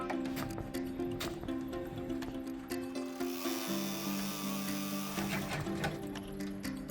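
An embroidery machine runs placement stitching across fabric on a tearaway stabilizer, a dense rapid mechanical clatter with a steady hum. The clatter shifts in tone midway as the needle moves.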